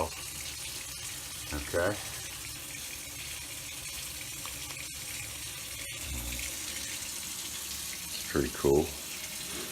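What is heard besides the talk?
hot water running from RV tankless water heater tap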